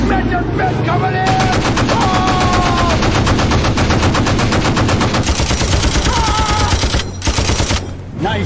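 Rapid automatic gunfire in a war film battle scene, a loud sustained burst of machine-gun fire with dense overlapping shots and a few brief whining tones, heavy and continuous for most of the clip.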